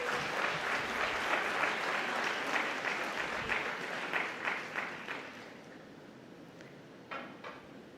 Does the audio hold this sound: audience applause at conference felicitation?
yes